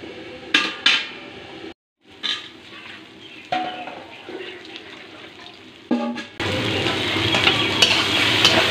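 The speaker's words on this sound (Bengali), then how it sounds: "সব একসঙ্গে ভালো করে কষে নেব।" Crab and cabbage stir-fried in a pan, first with intermittent scraping and clattering stirs, then a loud, continuous sizzle that swells in the final seconds.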